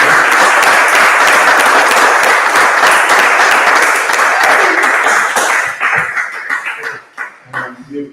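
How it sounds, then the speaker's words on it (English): Audience applause for panelists at a health and wellness festival, loud sustained clapping that thins out and fades toward the end, leaving a few scattered claps and murmurs. "I want to give them a round of applause"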